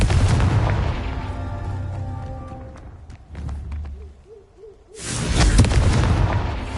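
Confringo spell blast from a Harry Potter video game: a broad loud explosive burst near the end, preceded by fading rumble and a short warbling musical tone.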